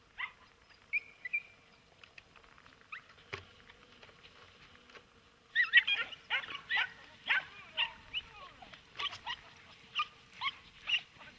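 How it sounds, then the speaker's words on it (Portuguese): Hunting dogs in the Alentejo countryside bark and yelp while flushing rabbits from cover during a rabbit hunt; after faint early calls, a steady series of sharp, moderately distant barks follows in a regular rhythm. "Os cães levantam os coelhos e estes atravessam as limpas"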